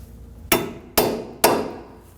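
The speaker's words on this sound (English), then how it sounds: "Using a punch and a hammer, we'll peen the axle nut." A hammer drives a punch to peen the axle nut on a 1993-2001 Subaru Impreza 2.2L H4 front CV axle: three sharp, evenly spaced metallic strikes, each ringing briefly before fading.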